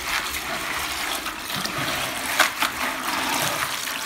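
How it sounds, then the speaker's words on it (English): Fermented coffee beans being washed by hand in water, giving a continuous sloshing, swishing wash with a couple of louder splashes, close and steady with no talking. "So Ida, we're about to start washing the coffee. And this is how you do it. Just add water. And then you start to move the coffee around with your hands."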